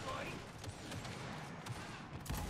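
Rapid gunfire bursts in the shooter Gears 5, sharp repeated shots scattered through the moment at moderate loudness, with players talking over the action.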